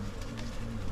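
Wasps at a nest hum in a brief, steady, low buzz that is close and moderately loud, with no voices over it.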